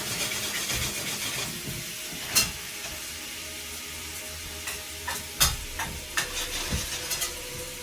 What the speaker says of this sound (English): I can already smell the mushrooms cooking